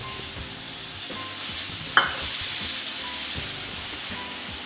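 Tomatoes hit a hot frying pan of spiced oil with coriander and turmeric for Indian pav bhaji, setting off a steady, close sizzle with a short sharp splash near the start, and no one speaking.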